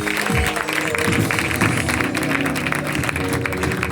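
A church congregation claps hands together during worship, producing a dense, continuous burst of applause from many people, loud and close, with some tonal sound mixed underneath.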